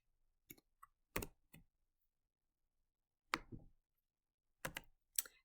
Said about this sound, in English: I would type right here